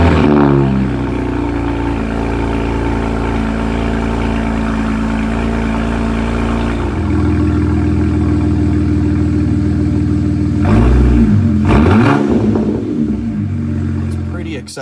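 A BMW 335xi with downpipes and a muffler delete cold-starting in a garage: a loud, close, steady high idle rumble with a brief rev burst near the end.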